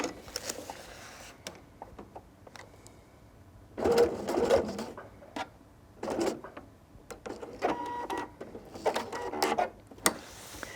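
A sewing machine bastes the side of a drawstring backpack in place in several short, close bursts of rapid stitching, separated by brief pauses.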